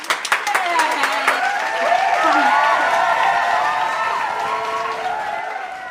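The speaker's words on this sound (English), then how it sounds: "So, everybody, give a big round of applause for Dr. Kopelove!" Applause and cheering break out from an audience welcoming a guest doctor, sharp claps at the start giving way to a sustained wash of clapping with whoops and voices mixed in.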